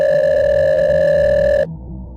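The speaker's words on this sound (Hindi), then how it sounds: "कि पॉकेट में रखा उसका फ़ोन बज उठा।" A mobile phone rings with a steady, loud electronic tone that cuts off abruptly, leaving a quieter low hum.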